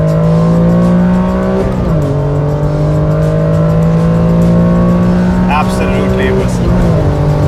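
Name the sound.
Honda NSX 3-liter V6 VTEC engine revving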